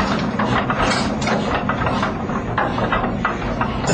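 An old engine, once used to power irrigation sprinklers, running steadily with a dense low chugging rumble and rapid irregular firing pulses, loud and close without voices.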